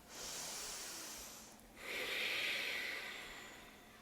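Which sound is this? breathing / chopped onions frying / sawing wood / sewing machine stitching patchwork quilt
breathing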